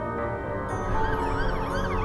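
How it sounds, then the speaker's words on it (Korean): A police car siren wails in rising and falling sweeps, somewhat distant and muffled, with a steady background hum and no voices. "밖에서 희미하게 경찰차 소리가 들려왔다."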